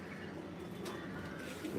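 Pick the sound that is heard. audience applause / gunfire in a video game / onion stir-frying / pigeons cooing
pigeons cooing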